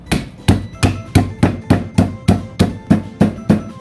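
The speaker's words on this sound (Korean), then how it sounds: "이 담은 것을 고무망치로 부수도록 하겠습니다" Rubber mallet crushing five shiitake mushrooms in a net, about ten sharp, evenly spaced thuds hitting loud and close with a rhythmic pounding and no voices.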